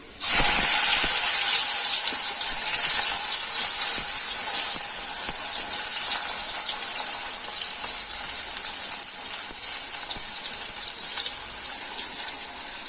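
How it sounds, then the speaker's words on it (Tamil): Elephant yam pieces deep-frying in hot oil in a kadai give a loud, steady, dense sizzle with crackling bubbles that runs without a break for the whole stretch, with no talking over it. "நல்லா ப்ரௌனிஷாக வர வரைக்கும் ஃப்ரை பண்ணி எடுத்துக்கோங்க"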